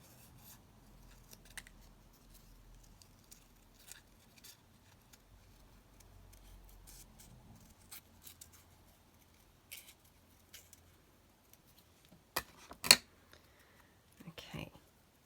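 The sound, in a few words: scissors cutting a paper flower out for a junk journal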